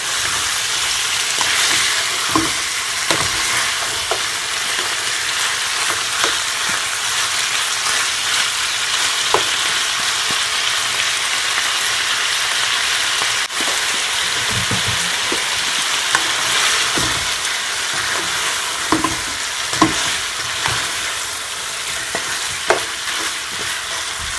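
Chicken for Jamaican stew chicken sears in a pot with a loud, continuous sizzle, punctuated by occasional clicks and scrapes of a spoon against the pot; no voices.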